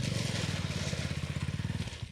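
Motorcycle engine running at a road repair site, a close, rough, rapidly pulsing low rumble held steady for a couple of seconds without talk.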